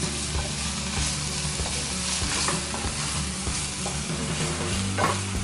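Ingredients sizzle and are stirred around in a hot frying pan for a Mauritian bowl, with a steady crackling fry and scattered scraping knocks of the utensil against the pan, close and without talking.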